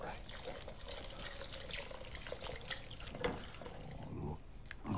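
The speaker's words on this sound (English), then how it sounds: "I think we need to put some water in as well" Water is poured into a rich venison cobbler stew, a continuous close splashing trickle that runs for several seconds and sounds alongside talking.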